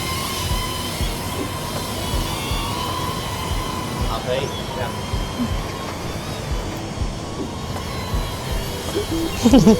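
A DJI NEO 2 drone flying nearby at a hands-on test event, its steady whining propeller drone running continuously at moderate loudness, with people talking over it.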